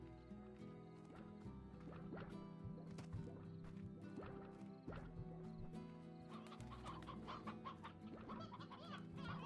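Chickens in the video game Slime Rancher cluck in a busy, overlapping stream with sharp repeated calls over a steady low musical bed, quiet in level throughout.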